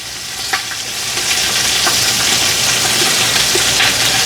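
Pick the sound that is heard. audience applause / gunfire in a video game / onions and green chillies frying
onions and green chillies frying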